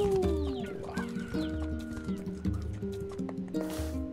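Chickens clucking in the video game Nier Replicant, a steady stream of short, close clucks and murmurs layered over game music, with a brief whooshing burst near the end.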